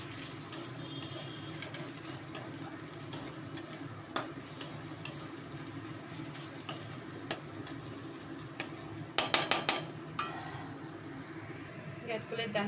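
Ghetkol stalk chorchori cooking in a pan, a faint low sizzle with soft scattered stirring taps and a quick burst of scraping near the end, a voice speaking over it.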